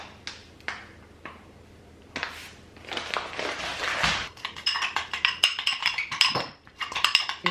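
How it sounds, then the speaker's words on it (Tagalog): A metal utensil clinks and scrapes against a bowl while sugar is stirred into a salad dressing. The first taps are sparse, then quick rhythmic clinking follows, close and fairly quiet, with no talking. "Mix lang natin until tuloy-tuloy lang yung pag-mix until ma-dissolve yung sugar"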